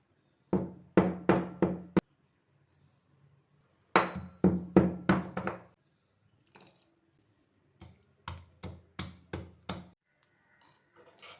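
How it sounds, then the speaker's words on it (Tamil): Pepper, cumin and garlic pounded in a stone mortar, three close bursts of sharp rhythmic knocks, four or five strikes each, separated by short quiet gaps. "ஃபஸ்ட்டு இடிக்கல்ல நம்ம வச்சுருக்க மிளகு சீரகம் பூண்டு போட்டு தட்டி எடுத்துக்கலாம்"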